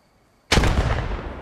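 A single grenade explosion in the World War II video game Post Scriptum, a sudden loud close blast after near silence, followed by a broad rumbling decay.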